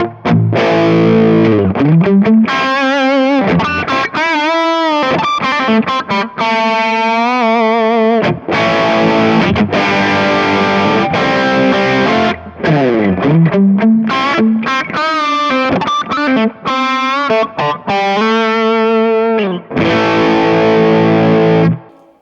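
Overdriven electric guitar through an overdrive pedal before a Kemper Profiling Amp, drive and tone at 5, with thick distortion, sustained chords and sliding notes played continuously and loudly, with brief gaps between phrases.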